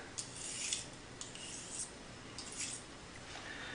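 A straight razor scrapes across stubble in short, crisp rasping strokes, about a half-dozen spaced passes, close and fairly quiet with no talking.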